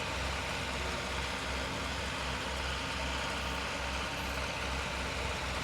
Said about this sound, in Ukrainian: Трактор їде бербербер.